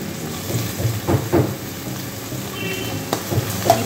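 Tomato sautéing over medium flame in a pan with cabbage and capsicum for a mixed vegetable dish, giving a steady close sizzle with a few stirring scrapes.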